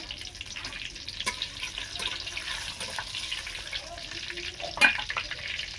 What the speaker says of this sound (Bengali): ফোড়ন করে নেব। 5 ফোড়ন, শুকনো লঙ্কা, তেজপাতা,